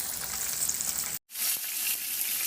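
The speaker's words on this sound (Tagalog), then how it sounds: "Siguraduhin mo lang din na mainit na yung mantika bago mo iprito yung chicken." Chicken pieces frying in hot oil give a loud, continuous sizzle and bubbling close by, broken by one brief total dropout near the middle before the crackling resumes.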